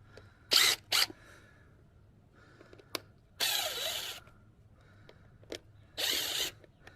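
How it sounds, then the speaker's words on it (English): A screw gun with a Phillips bit backs screws out, giving several short whirring bursts of varying length with pauses and small clicks between them, close and clear, with no talk. "So you need a screw gun with a Phillips bit, basically, or you can use a screwdriver."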